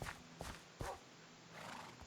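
Minecraft horses neigh and clip-clop in a mob zoo, with faint whinnies and a few hoof clops in quick succession, quiet and distant with no voices.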